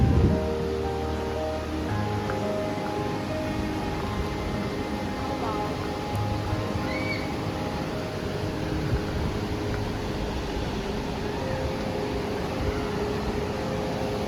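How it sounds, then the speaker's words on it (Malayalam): Heavy rain pours steadily in the hills of Munnar, a dense, even hiss that fills the whole stretch with no pauses, while faint voices drift in now and then. "നല്ല മഴയുണ്ട്, കാണാൻ പറ്റുന്നുണ്ടോ എന്നറിയില്ല"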